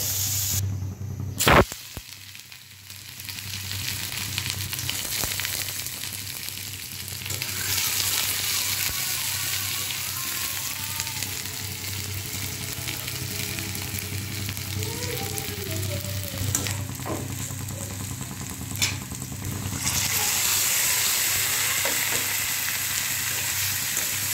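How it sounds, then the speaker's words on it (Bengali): Fish frying in oil in a wok in a home kitchen, a steady loud sizzle that runs continuously, opening with a sharp clatter and picking up a brighter hiss in the last few seconds. "এই তো মাছগুলো ভাজার জন্য কড়াই দিয়ে দিলাম। মাছগুলো ভাজা হোক।"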